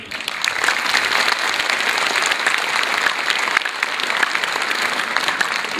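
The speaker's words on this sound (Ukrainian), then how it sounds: "І не економте на аплодисментах, тому що для вас сьогодні виступають діти." Audience at a children's concert applauding, dense sustained clapping from a sizeable crowd that holds steady and loud throughout, without any voices standing out.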